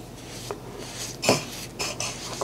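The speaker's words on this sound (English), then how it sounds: "we're going to take our cinnamon, sugar, and butter mixture and spread that all" A cinnamon, sugar and butter mixture spread across rolled bread dough, heard as a few soft scrapes and light utensil taps against a bowl or surface, close and quiet with short pauses between strokes.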